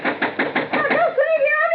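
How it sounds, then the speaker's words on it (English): Five firm, evenly spaced knocks pound on a wooden farmhouse door in a radio drama, loud and close, followed by a raised voice. "All right, Woolman, open up this door."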